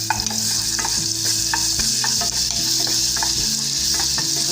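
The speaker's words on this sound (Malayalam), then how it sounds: "ഇനി നമുക്ക് ഓയിൽ ഒഴിച്ചു കൊടുക്കാം. അതിലേക്ക് വെളുത്തുള്ളി ഇടാം" Garlic sizzling in hot oil in a pan for pizza sauce, a loud, steady fry with repeated scraping clicks of stirring.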